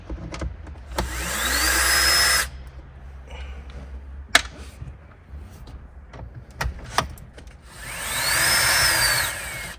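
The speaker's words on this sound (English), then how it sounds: "I've got my impact on its lowest setting." An impact driver on its lowest setting spins out dash bolts in a Toyota Land Cruiser 200 series cabin: two sustained rising whirs a few seconds long at the start and end, with clicks and knocks between them.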